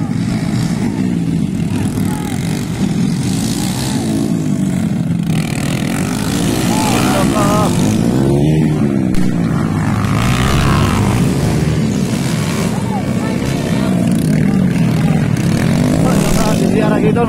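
Underbone motorcycles race on a moto circuit, their engines droning steadily with rising and falling whines as bikes pass, under continuous excited commentary from an announcer.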